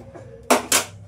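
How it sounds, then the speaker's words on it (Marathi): A kadhai being set down on the stove before heating oil to deep-fry chicken 65 gives two sharp metallic clanks in quick succession, close and loud, with no talking. "आता कढई घेतले"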